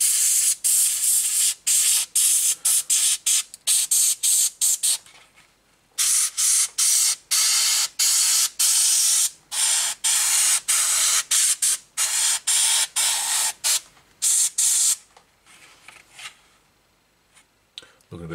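Close airbrush or spray bursts hiss repeatedly in short, irregular pulses with brief pauses as paint is blotched over a Tamiya ISU-152 model tank, with a couple of longer steady sprays and quiet gaps between.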